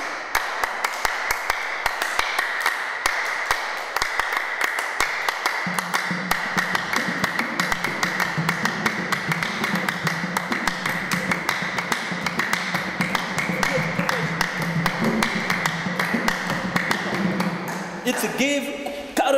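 Two people clap the Aka ekake rhythm in a steady, quick interlocking pattern of bright taps, continuing throughout over a droning tonal background, with a brief change near the end.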